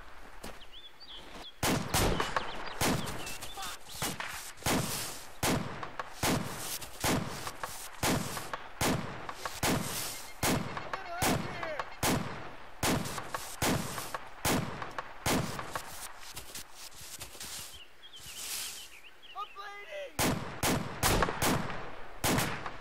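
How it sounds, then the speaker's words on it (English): Rhythmic gunfire in ARMA 2, a long steady series of sharp shots at an even, regular pace, fairly distant and moderately loud, continuing almost without pause, with faint voices now and then. "Some rhythmic shooting here, or what?"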